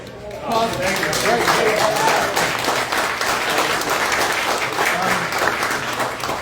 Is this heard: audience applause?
yes